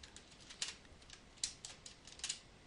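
Keys on a computer keyboard are pressed for shortcut combinations, giving soft, scattered clicks and taps in irregular bursts at low volume, with no voices.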